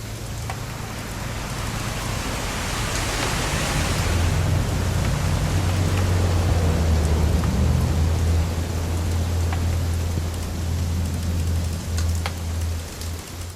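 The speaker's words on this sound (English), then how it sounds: "It's gonna rain the whole weekend, isn't it?" Steady rain pours throughout a stormy scene in the video game What Remains of Edith Finch, with a low rumble of thunder swelling underneath and rolling on to the end, no voices.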